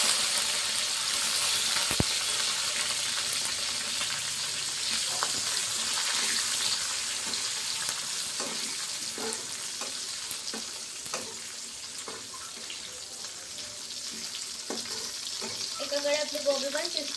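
Chopped green chillies sizzling in hot oil for a tadka in a quick garlic cauliflower dish, a steady bright crackle throughout with occasional soft clinks of stirring.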